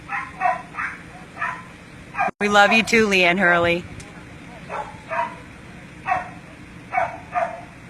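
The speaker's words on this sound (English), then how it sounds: "Hear the dog barking." A dog locked in a kennel barks repeatedly at a moderate distance in short, evenly spaced bursts, with a person briefly speaking over it partway through.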